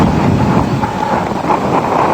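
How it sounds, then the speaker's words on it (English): Wind gusting across microphones in a near-empty athletics stadium before a 100 m race, a steady broadband rumble and buffeting that holds loud and unbroken for the whole stretch, with no voices. "Gusts of wind echoing off the microphones."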